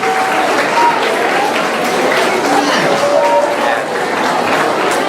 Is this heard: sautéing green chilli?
no